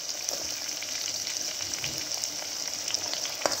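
Garlic, ginger and onion frying in a pan for chicken karahi, a steady close sizzle with scattered crackles and pops throughout, no talking.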